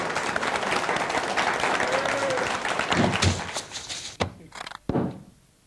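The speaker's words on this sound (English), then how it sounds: "think that deserves a round of applause" Audience applause at a card-making and embossing demonstration, a dense, steady clapping that fills the first four seconds before thinning into a few scattered claps and thumps as it dies away.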